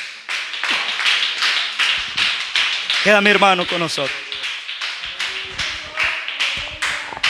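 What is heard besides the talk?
congregation clapping for the Lord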